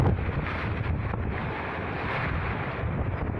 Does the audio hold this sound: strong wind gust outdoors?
yes